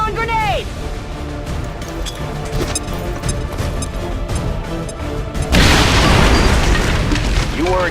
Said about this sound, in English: You weren't kidding when you said those tanks could explode.